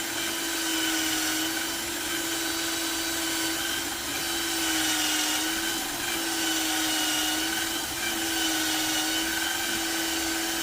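A power drill bores a hole into wood up to a depth stop, giving a steady close whining motor drone that holds a constant pitch for about ten seconds with only slight dips in load.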